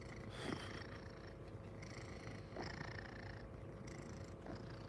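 Simba, an old cat, purring close and steadily with a soft rhythmic rumble that swells and eases in regular cycles, heard alone without any voices.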